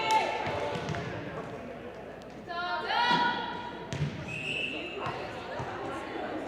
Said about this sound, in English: You could hear the thud. The thud, yes, the thud when you pass the ball.